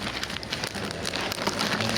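Steady rain pours down in a continuous broadband hiss, drops pattering densely on a surface nearby, with no voices over it.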